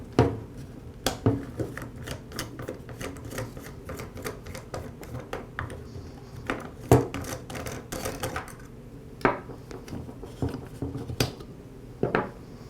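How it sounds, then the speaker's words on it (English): Plastic parts of a Ryobi string trimmer click, snap and rattle as the bump head knob and spool come off. The sharp, irregular clacks sound close and sit over a quiet background. "I'll begin by removing the bump head knob and the spool."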